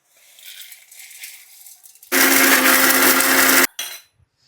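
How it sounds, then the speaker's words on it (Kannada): Mixer grinder jar grinding roasted spices into powder: after a quiet start, a loud harsh whirring burst of about a second and a half cuts off abruptly, followed by a short second pulse. "ಇವಾಗ ನಾನು ಜಾರ್ಗೆ ಹಾಕ್ಕೊಂಡು ಪೌಡ್ರ್ ಮಾಡ್ತೀನಿ"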